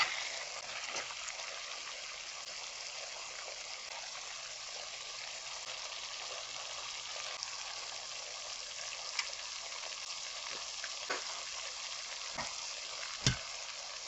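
Spinach stew simmering in a pot, a soft steady sizzle and bubbling hiss throughout, faint and close, with a few small clicks near the end.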